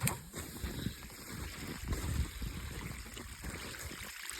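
Water trickles and splashes steadily from a hose fed by a pump at an off-grid site in freezing conditions, a close, continuous running flow with small bursts of gurgling.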